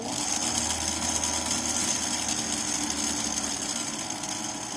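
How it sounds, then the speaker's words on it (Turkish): A Kenwood stand mixer's motor whirs steadily at minimum speed with a grinding, rattling drone as it kneads pizza dough, loud and continuous with no talking. "mutfak şefinin ne kadar ses çıkardığını görmeniz açısından sesi kapatmayacağım."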